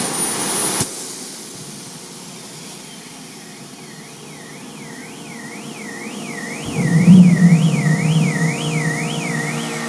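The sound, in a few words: jet motorcycle cooler running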